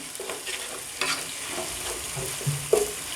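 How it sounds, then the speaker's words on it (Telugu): Ginger garlic paste frying in a pan for gongura chicken, soft continuous sizzle broken by a few spoon scrapes and clicks against the pan, close and fairly quiet, without speech. "ఈ అల్లం వెల్లుల్లి పేస్ట్ మనకు పచ్చి వాసన పోయేంత వరకు మనం వచ్చేసి ఫ్రై చేసుకోవాలి"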